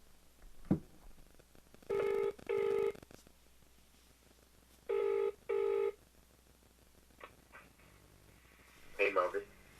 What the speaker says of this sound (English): let's get Mark on the phone